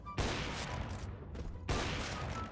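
Gunfire in CS:GO, with two loud, sharp, broadband shots about one and a half seconds apart, each trailing into a dense noisy tail.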